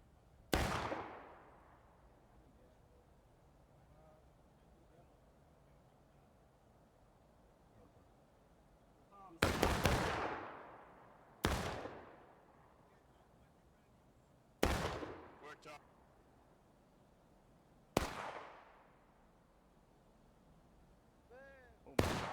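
Musket volleys in the Civil War game War of Rights, five loud sharp cracks with echoing tails, the first alone and the rest spaced a few seconds apart after a long quiet stretch, with faint background noise between shots.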